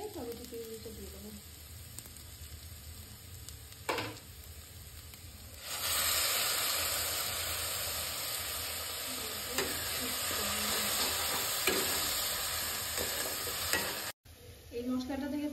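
Tomato puree added to ginger and garlic paste in a kadhai for chicken, bursting into a loud, sustained sizzle after a brief clack, with stirring scrapes throughout, close and continuous until the end.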